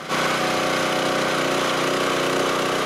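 A power drill bores steadily into packed fill ground for firewood shelter post holes, a loud continuous grinding whir that starts abruptly and runs without pause.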